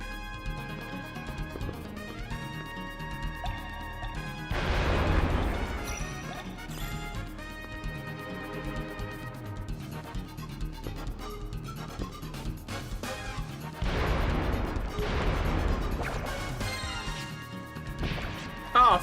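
Bombs exploding in the game Wild ARMs 3, two loud crashing blasts several seconds apart, each with a bright smashing burst over a bed of game music and sound effects.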